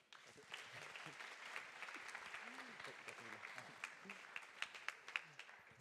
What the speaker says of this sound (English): another applause for Roberto.